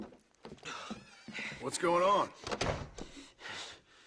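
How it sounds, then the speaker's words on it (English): A door shuts in the Red Dead Redemption video game, giving a brief solid knock amid close, steady conversation. "Come in, and shut the door."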